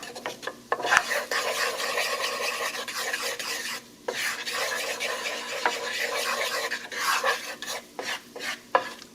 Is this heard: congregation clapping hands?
no